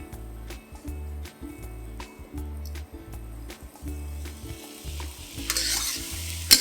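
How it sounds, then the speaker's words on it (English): Sliced lotus root stir-fries in a hot pan with oyster sauce, sugar and pepper, sizzling steadily while a spatula stirs and scrapes in a quick, repeated rhythm, close and fairly quiet, with no voices. "Give this a quick stir"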